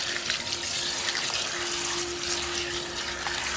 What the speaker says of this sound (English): So basically you wash that to clear water.